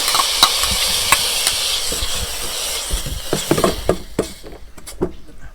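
Steady hissing sizzle as vegetables are dry-stir-fried in a pot over high heat, scraping stirring strokes and occasional clinks against the pot, close and fairly loud, the sizzle fading toward the end.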